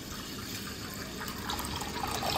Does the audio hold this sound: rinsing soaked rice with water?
yes